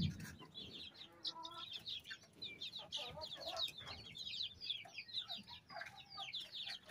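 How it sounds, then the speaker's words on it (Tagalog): Chickens cluck and chatter steadily at close to middle distance, with a higher squawk or two over a low farmyard murmur. "Kaya marami na tayong manok eh."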